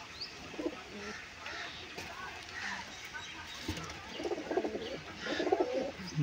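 Madras pigeons coo in soft, low, repeated bursts nearby, the calls clustering toward the end, with a person talking intermittently over them.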